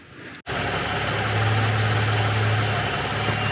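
A Cadillac CT6 with a 3.6-litre direct-injection V6 idles steadily and close by, a continuous low engine hum with a slight vibration that runs alone after a brief opening dropout.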